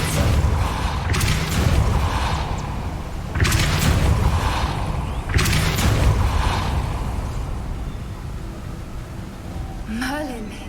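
A spell cast in Hogwarts Legacy, the Depulso force charm, bursting out as a few loud whooshing blasts roughly every two seconds over a steady game background, ending with a rising magical shimmer.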